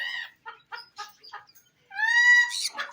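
Pet parrots give a run of short clucking, laugh-like calls, then a longer rising, nasal squawk, close and clear with no one talking.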